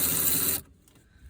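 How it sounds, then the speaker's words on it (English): A Ryobi 3/8-inch drive cordless electric ratchet whirs loudly and steadily at close range for a moment, then stops abruptly, leaving a quiet room. "it's a Ryobi 3/8 drive cordless electric ratchet"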